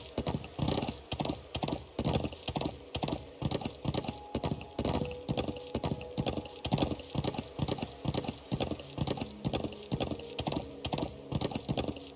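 Steady, rhythmic clip-clop of horse hooves trotting in a video game, the regular beat continuing without pause over a low background hum.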